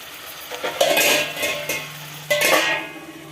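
A metal lid clanks back onto a pot of mutton dum biryani, a couple of sharp clattering knocks amid stirring and faint sizzling from the cookware.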